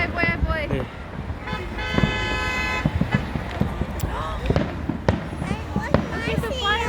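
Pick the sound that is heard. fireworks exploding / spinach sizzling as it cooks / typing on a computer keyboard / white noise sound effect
fireworks exploding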